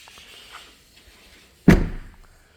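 A Rimor Kilig 66 motorhome's exterior door is pushed shut and locked, one sharp loud slam with a brief rattling thud after a quiet lead-in.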